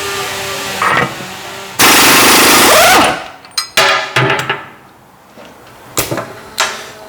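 A power tool whirs in loud, sustained bursts as 17mm bolts come off the axle of a 2008 Toyota Sienna, followed by metallic clanks and rattles of parts being handled nearby.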